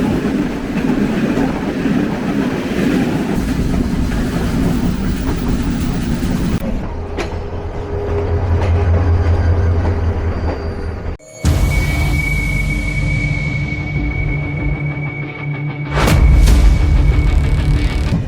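The Nilsagar Express runs on broad gauge track, a loud continuous rumble of wheels and carriages with clattering rail joints and abrupt shifts in tone, ending with a heavy low roar.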